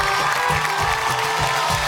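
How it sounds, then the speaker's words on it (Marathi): A studio audience at a Marathi television game show claps loudly and steadily, with crowd noise and faint cheering under a continuous wash of applause and little speech. "एकदा जोरदार टाळ्या झाल्या पाहिजे"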